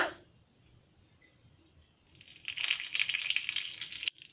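Curry leaves dropped into hot oil in an appe pan, alongside mustard seeds, burst into a loud crackling sizzle after a quiet start, holding steady for a couple of seconds before cutting off.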